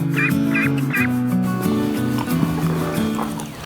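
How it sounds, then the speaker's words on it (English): A farm duck gives loud, honking quacks up close, calling repeatedly in a steady stream without letting up. "this is one of our ducks"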